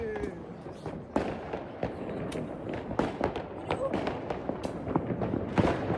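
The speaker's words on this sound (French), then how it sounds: "Oh là là là là là là, ça pète de partout!" New Year fireworks and firecrackers explode all around, with dense sharp bangs and crackles going off continuously, some close and loud. Excited voices talk over the blasts.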